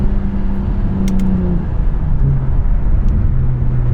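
Single-turbo BMW 335is engine bogging and stumbling while driving, a steady close-up cabin rumble with a low droning tone that wavers and dips as the car hesitates.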